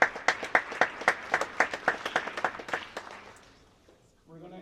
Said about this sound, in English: So I want to give you guys a round of applause for all that.